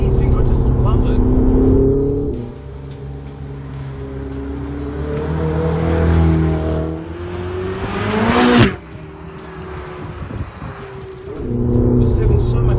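A 2016 Ferrari 488 GTB turbo engine revs repeatedly, climbing and dropping through the rev range. It is loud and close, with a sharp burst near the end before it settles to idle.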